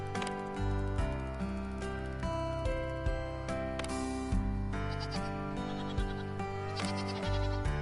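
Goats bleating in the farm management game Farm Manager 2022, repeated bleats standing out over continuous background music with a steady rhythm of calls.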